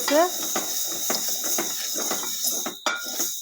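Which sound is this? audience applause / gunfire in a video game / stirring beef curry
stirring beef curry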